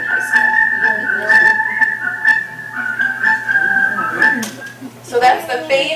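A clear whistled tune carries a melody above a soft background murmur, sustained for several seconds before fading into other sounds.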